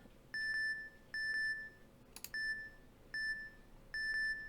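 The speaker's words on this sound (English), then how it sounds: "Tachyon Echo single beep and double beep." Tachyon Echo electronic beep effect: clear, clean tonal beeps repeating in an alternating pattern of single and double bleeps, loud and isolated against faint background hiss, with a brief click-like burst midway.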